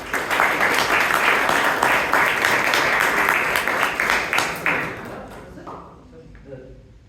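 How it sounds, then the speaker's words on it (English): A Toastmasters club meeting in Bangalore applauds a speaker, a full, loud burst of crowd clapping that holds steady for about five seconds before tapering off into quieter room sounds and a faint voice. "Round of applause for Anand"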